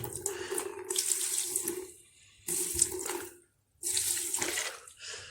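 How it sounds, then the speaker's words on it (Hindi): Petrol poured into a container, roughly 100 to 150 ml, in three steady liquid bursts separated by short pauses, close and fairly loud with no voices. "तो मैं अभी पेट्रोल डालता हूँ, आप लोग देखें।"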